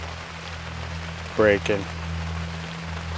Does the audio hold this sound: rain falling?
yes